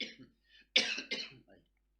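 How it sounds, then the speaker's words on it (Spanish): A few short coughs from a man giving a Bible lesson, close and fairly quiet, with one sharp louder cough in the middle and smaller hacking bursts around it. "Me agarró una tos"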